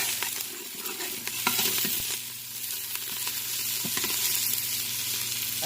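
Onions sautéing with green chilies and coriander leaves are stirred in a hot pan, a steady close sizzle with scraping stir strokes, no voices.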